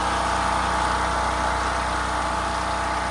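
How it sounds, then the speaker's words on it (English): Portable generator running outdoors while powering a home furnace, giving a loud, steady engine drone with constant low hum and no breaks. "Let's go outside and look at the generator."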